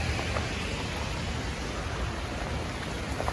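Steady rain pours outside a greenhouse, a dense unbroken hiss of drops on surfaces with no voices.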